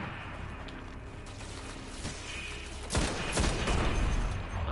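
Sniper rifle shots in the video game Destiny, fighting Fallen enemies: a few sharp reports, two close together near the end, over a low rumbling game background at modest level.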